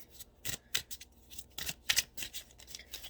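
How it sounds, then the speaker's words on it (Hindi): Tarot cards being shuffled by hand, soft quiet riffling and slapping bursts in an irregular rhythm, close and faint with no talking. "मैं आप लोगों के सामने शफल कर रही हूँ क्योंकि ये ना हो कि मैंने मिक्स की है।"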